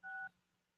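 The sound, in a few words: telephone keypad button tones (DTMF) on a conference call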